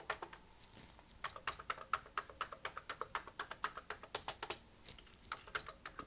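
Rapid typing on an Amstrad / Schneider CPC 664 8-bit computer keyboard: a steady run of crisp plastic key clicks, close and fairly quiet, with a short pause before the tapping resumes.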